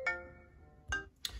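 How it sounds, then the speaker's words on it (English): A short electronic ringtone chime sounds, then two more brief tonal blips follow, fairly quiet with no talking. "Sorry, that was my phone."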